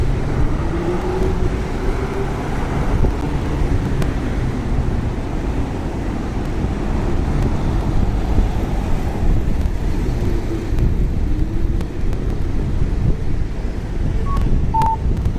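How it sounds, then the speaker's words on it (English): Steady wind roars across the microphone on a Shinjuku street in Tokyo, a loud broadband rush with low rumbling gusts that persists throughout, with faint traffic underneath and no talking. "even though it's pretty windy"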